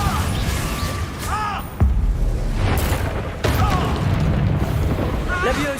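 Confringo spell explosions in a Harry Potter video game, several booming blasts and crashes amid game effects and chimes, with a player talking over them.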